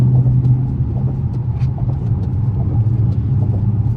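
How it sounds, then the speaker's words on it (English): A Dodge Charger R/T with a Hemi V8 gives a steady, low engine rumble from inside the cabin while driving in the rain, holding an even drone throughout. "Big Hemi coming through"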